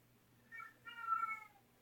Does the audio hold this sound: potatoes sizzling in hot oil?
no